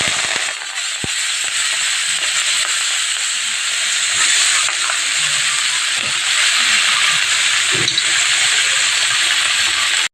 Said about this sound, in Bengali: এবার আমি শাকটা দিয়ে দেবো।